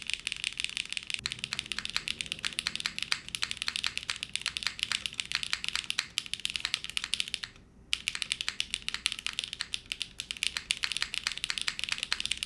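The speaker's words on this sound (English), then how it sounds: "It definitely sounds like HMX switches for sure." Rapid, crisp typing on an Arc60 mechanical keyboard fitted with stock HMX Macchiato switches, a dense close-up patter of keystrokes with a brief pause partway through.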